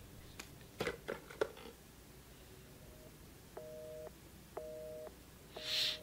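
Telephone busy signal in Resident Evil 7 after a phone is picked up, three evenly spaced two-tone beeps at a moderate level, preceded by a few sharp clicks and handling knocks in a quiet room.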